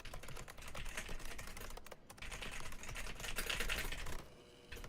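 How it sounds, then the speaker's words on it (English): Rapid, continuous clatter of computer keyboard keys being pressed at random, close and fairly loud, with a brief pause near the middle and a quieter stretch at the end. "I'm pressing every button on my keyboard right now."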